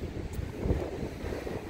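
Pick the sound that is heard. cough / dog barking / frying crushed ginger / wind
wind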